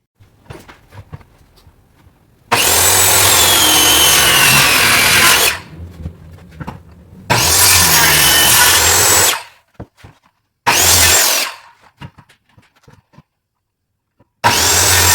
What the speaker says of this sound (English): I'm going to use the skill saw again and cut these out.